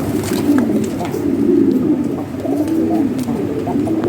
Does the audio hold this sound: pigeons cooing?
yes